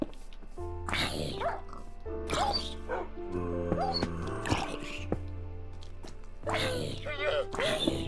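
Dogs in the Minecraft video game bark in several short, loud bursts spread across the clip, sounding over steady game music with a low hum.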